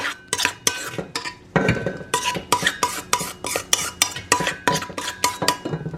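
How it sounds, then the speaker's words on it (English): A spoon scrapes and stirs a meatloaf mixture around the bottom of a bowl, making close, irregular clinks and scrapes in quick bursts with brief pauses between them. "I'm just going to do a couple of turns of the spoon. Make sure that all the ingredients on the bottom are mixed in. Scrape the bottom really good."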